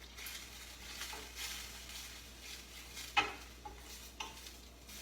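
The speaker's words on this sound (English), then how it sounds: "I'm just sauteing it good" Onion sautéing in a pan toward caramelizing, a quiet, even sizzle with occasional spatula scrapes and a sharp clink of utensil on pan near the middle, soft and close, no voices.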